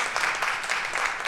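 A church congregation clapping at a Sunday chapel service, a steady dense patter of many hands filling the short moment with no speech over it.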